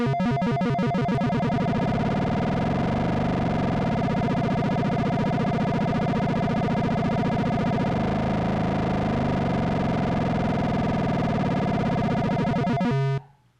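A Korg MonoPoly analog synthesizer's arpeggiator steps rapidly through its four oscillators, giving a dense, buzzy, distorted sequence that runs steadily and loudly for about thirteen seconds before cutting off abruptly.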